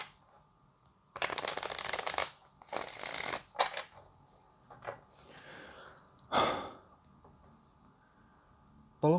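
Tarot cards are shuffled close up in several brisk riffling bursts separated by pauses, with soft breathing and quiet handling noises between them.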